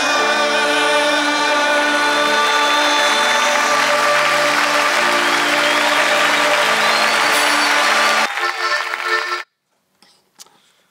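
A live recording of a beloved Israeli song: a loud, dense mix of music and crowd applause that holds steady, then drops away abruptly into near silence with a few faint sounds.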